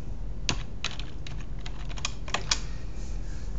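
Fingers tap on a computer keyboard while entering an Excel formula, a quick uneven string of crisp, close key clicks over a steady low hum, with no talking.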